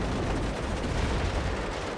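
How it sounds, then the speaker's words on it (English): AMX artillery shells pounding a town in the wartime strategy game WARNO, a dense, continuous roar of heavy gunfire and explosions that fills the whole stretch, loud and unbroken with no voices. "he's taking a lot of poundings from the AMX, shooting into the town on his units"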